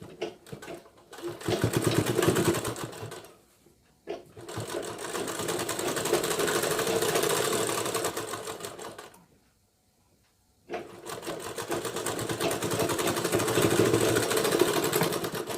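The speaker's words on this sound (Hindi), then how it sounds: "तो यहाँ पर एक बिल्कुल सीधी सिलाई लगानी है।" Sewing machine running a straight seam on a blouse, close and steady, in three long bursts of rapid rattling stitching separated by short pauses, the motor humming evenly with no voices.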